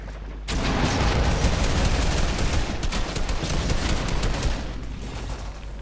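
Rapid cannon fire from a boat in the video game Fortnite Season 8 on PS4, a dense, loud barrage of booms and blasts that runs for several seconds without a break.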